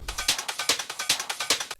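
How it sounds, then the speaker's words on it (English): Rapid percussion loop of tight, bright hits pattering in a quick steady rhythm, loud and close, with no talking. "Then a fast percussion loop."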